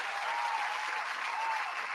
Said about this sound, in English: So let's give you a round of applause for making sure we stay on our task.